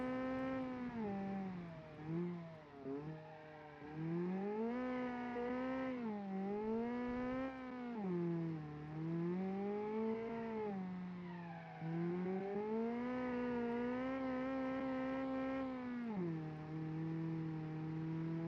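Loud, fast tuned car engine in BeamNG revving hard through gears, pitch repeatedly climbing and dropping with each shift, with wheelspin during launch, continuous and close for the whole stretch.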